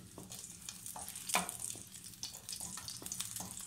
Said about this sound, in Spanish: lo que vamos a hacer es integrar los dos dientes de ajo. Perfecto, vamos a esperar que se doren un poquito